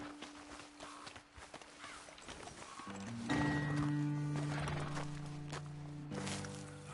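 Horses in the Red Dead Redemption 2 video game, standing after their riders dismount: hooves clip-clop and shuffle on the ground nearby, with steady game music and ambience rising underneath.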